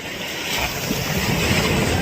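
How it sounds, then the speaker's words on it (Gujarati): Ocean surf rolls onto the beach at Diu as a loud, continuous wash that swells slightly, with no voices over it. "નજારાનો વ્યૂ જોઈ લો ખાલી અત્યારે મોજાનો અવાજ"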